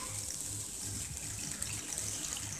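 Water being poured into a pan of Gopi (cauliflower) Manchurian gravy, a small quantity added to loosen it, giving a steady close trickle and splash with faint bubbling beneath.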